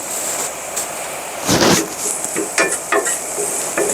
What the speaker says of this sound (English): I'm toasting up the coconut so you can see it starting to turn brown.